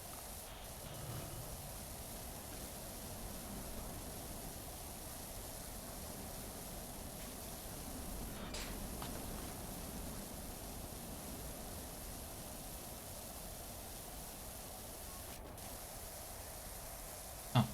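Steady rain falls outside, a dense, even hiss that runs unbroken for the whole stretch with no voices over it.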